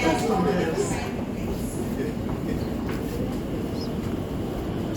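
An Elizabeth line train bound for Paddington runs with a steady low rumble and rolling wheel noise inside the carriage, a continuous moderate hum; a voice speaks briefly near the start.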